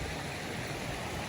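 A waterfall beside a muddy hiking trail in a remote place, heard as a steady, close, broadband rush of falling water with no pauses or voices.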